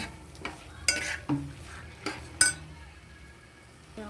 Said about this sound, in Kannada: ಈಗ ಚೆನ್ನಾಗಿ ಮಿಕ್ಸ್ ಮಾಡಿ